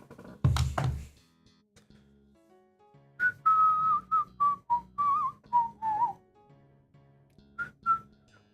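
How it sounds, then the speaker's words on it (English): A person whistles a short wavering tune of about ten notes, alone and fairly close, after a few dull knocks at the start and a brief pause, ending with two more short whistled notes. "I'm looking at myself whistling."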